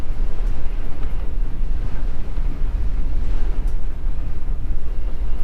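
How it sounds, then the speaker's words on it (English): Loud, steady wind buffeting the microphone, a constant low roaring rumble with no let-up. "it's really windy here."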